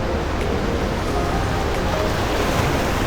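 Surf rolls in continuously at Sanglen Beach in Yogyakarta, a loud, steady wash of breaking waves with wind buffeting the microphone throughout.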